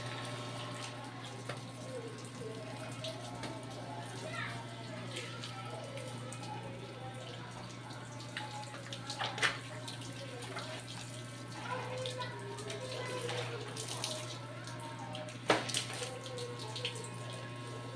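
Steady water spray hissing from a small hose, continuous and close, with a low constant hum underneath and a few brief clatters.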